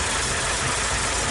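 A 1963 Ford Falcon engine running under load in fourth gear, a loud, close, steady rough drone with no speech.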